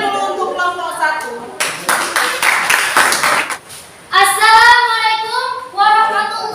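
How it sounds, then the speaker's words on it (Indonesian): Applause from a group, a burst of clapping hands lasting a couple of seconds, with voices talking before and after. "Tepuk tangan dulu untuk kelompok satu."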